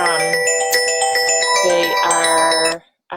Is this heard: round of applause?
no